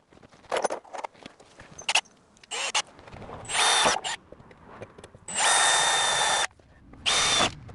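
A power drill drilling a car body panel on an Alfa Romeo Giulietta widebody conversion whines in several bursts, two long and steady, with metallic clicks and handling noises in between.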